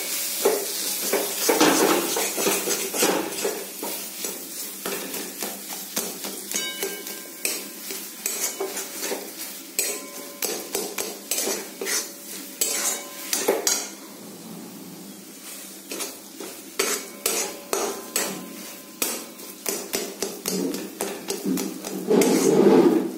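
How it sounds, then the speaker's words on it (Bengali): Soybean curry is stirred in a pan until its water dries, with repeated close scraping and clacking strokes of a spoon over a soft sizzle, continuing steadily with brief pauses. "সোয়াবিনের সমস্ত জল শুকিয়ে যাওয়া পর্যন্ত নাড়তে হবে।"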